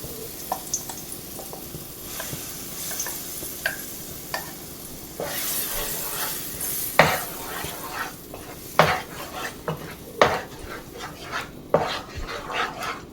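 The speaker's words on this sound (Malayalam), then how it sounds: "അതിലേക്ക് നമുക്ക് ഈ അരച്ച് വെച്ച മാങ്ങ ഇട്ട് കൊടുക്കാം. ഇത് നമുക്കൊന്ന് വേവിച്ചെടുക്കണം." Ground mango sizzles in ghee in a pan while a spoon stirs and sautés it, with a steady frying hiss and louder, irregular scraping clacks of the utensil against the pan toward the end.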